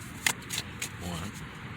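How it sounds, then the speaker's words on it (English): Tarot cards shuffled by hand at close range in a few quiet, brief riffling bursts, with a faint voice-like murmur partway through. "All right, 5 shuffles for the fixed signs."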